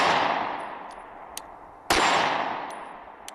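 A SIG Sauer P365 SAS pistol fires two sharp, loud reports about two seconds apart. Each shot rings out and fades slowly, with a few faint metallic clinks in between.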